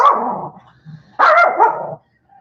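A dog barks close by, giving two loud, rough barks about a second apart, with a faint whimper in the quiet gap between them.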